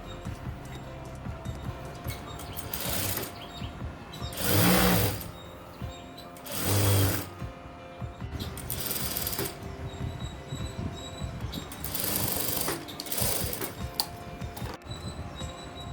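A sewing machine stitches a saree while an extra piece is attached, running in several bursts of rapid mechanical whirring with short pauses between, close and moderately loud.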